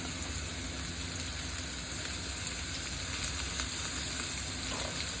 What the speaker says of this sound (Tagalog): Igisa natin to. Andyan na ang ating sibuyas, kabuti at carrots.